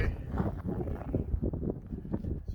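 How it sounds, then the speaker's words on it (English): Blizzard wind on a walk in Manitoba at minus 32 buffets the microphone in uneven gusts, making a dense low roar with no one speaking. "it's getting windy and the snow is blowing"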